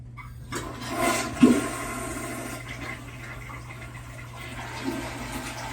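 A toilet flushes with a loud rushing gurgle that drains off into a softer trickle of refilling water, nearby and with no voices.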